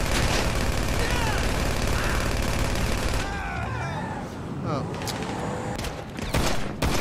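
Dense, continuous pistol fire from a heavy pistol in GTA Online, mixed with loud game noise and bursts throughout; speech runs underneath, with sharp shot transients clustered near the end.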